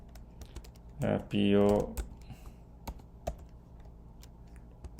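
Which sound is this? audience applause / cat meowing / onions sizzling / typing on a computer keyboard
typing on a computer keyboard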